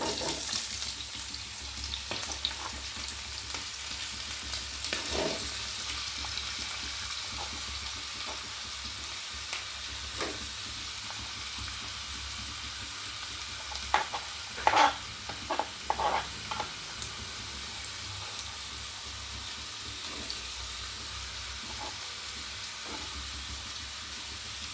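Sliced onions sizzle in hot coconut oil in a pan for a Kerala tomato sardine curry, a steady frying hiss with intermittent scraping stirs and a few sharper clinks, close and without talk.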